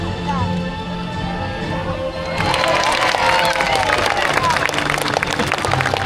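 A zoo crowd at Blackpool Zoo breaks into loud, sustained cheering and applause for Zana the sea lion, swelling suddenly after a stretch of quieter background murmur and chatter.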